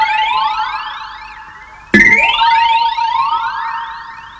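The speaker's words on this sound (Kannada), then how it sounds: "ಕೇಳಿಸ್ತಾ ಇದೆ ಸೈರನ್" A police siren from a Kannada movie scene wails in rising and falling sweeps, loud and close, with a sharp jolt partway through as the tone shifts and keeps cycling; no one speaks.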